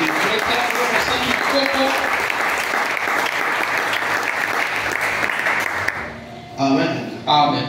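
A church congregation breaks into sustained, loud applause and cheering that fills the room, stopping abruptly near the end as a voice speaks over the quiet.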